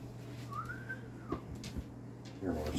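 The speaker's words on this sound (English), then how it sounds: "Dog whistle." A dog whistle gives one short, clear tone that sweeps up and then eases down for about half a second, followed by brief low voice sounds nearby.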